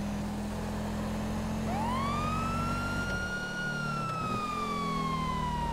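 A police car siren in a video game wails in a long rising and falling sweep, loud and close, over a steady low engine drone.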